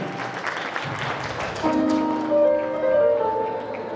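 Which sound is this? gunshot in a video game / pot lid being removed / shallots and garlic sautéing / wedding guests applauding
wedding guests applauding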